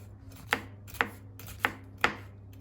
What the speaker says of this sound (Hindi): इसी तरह ये पापरिका बारीक बारीक काट लेनी है।